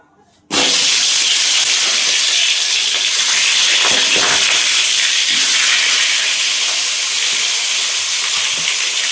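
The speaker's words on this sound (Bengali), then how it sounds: "তেল গরম হয়ে গেছে, মাছের মাথাগুলো দিয়ে দিই, সুন্দর করে ভেজে নিই।" Pangas fish heads hit hot oil with a sudden loud hiss, settling into a steady, fierce frying sizzle that carries on close and unbroken with faint crackles throughout.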